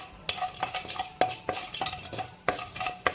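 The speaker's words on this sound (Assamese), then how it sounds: "এতিয়া এখন কেৰাহীত তেল গৰম কৰিছোঁ আৰু সেই তেলতে এই সৰিয়হকেইটা দি দিছোঁ।" Mustard seeds dropped into hot oil in a kadai, with quick crackling sizzle and several sharp clinks of a spoon stirring against the pan, close and fairly quiet with no talk.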